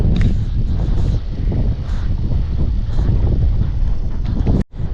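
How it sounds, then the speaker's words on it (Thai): Cool wind gusts across the microphone at the Khao Daeng hilltop viewpoint in Prachuap Khiri Khan, a loud rumbling buffet with uneven surges that cuts off abruptly near the end. "มีลมเย็นนะฮะ"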